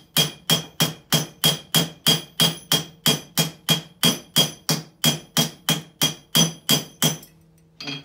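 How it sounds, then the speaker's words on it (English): A ball-peen hammer strikes a spur rivet about twenty times in a steady, quick rhythm, each sharp metallic clink close and loud, followed by a short quiet pause at the end. "just hitting the rivet"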